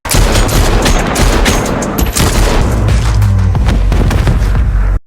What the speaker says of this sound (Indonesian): Dan tanpa basa-basi, pelaya langsung menembaki tubuh Brian.